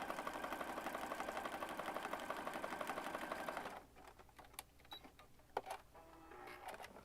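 A sewing machine stitches a junk journal page with a steady, fast, rhythmic hum for several seconds, then stops, leaving quiet handling clicks and rustles.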